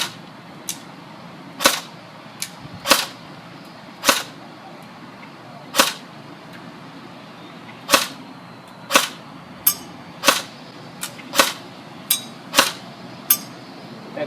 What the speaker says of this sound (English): I will do a burst of full auto just to give you guys a demo.